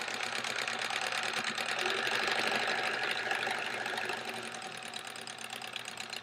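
A sewing machine stitches straight-line quilting across quilt squares, a steady, fast mechanical whir with a rapid needle rhythm running close and continuous, dipping slightly in level toward the end.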